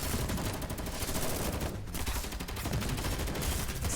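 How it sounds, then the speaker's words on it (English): Rapid bursts of gunfire in a Girls' Frontline 2 game scene outside a warehouse, dense overlapping shots rattling continuously with a brief lull midway. "Soon, gunshots fill the outside area outside the warehouse."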